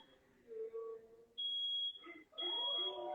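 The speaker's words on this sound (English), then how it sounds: "they set off the alarm with the damn birthday cake" Indoor smoke alarm set off by a birthday cake, sounding two long loud piercing beeps with a brief gap, mixed with faint background noise and chatter.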